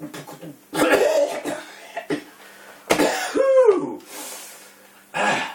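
Several sharp, close coughs and throat-clearing bursts come from one person, spaced irregularly with brief pauses between them, loud and alone with no speech.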